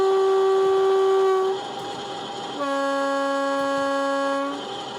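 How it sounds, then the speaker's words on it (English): Accurascale class 50 model locomotive with DCC sound plays its two-tone horns: a loud steady higher blast, a short gap, then a longer lower-pitched blast, both clean and close with no talking. "functions 3 and 4 are the high tone and low tone horns"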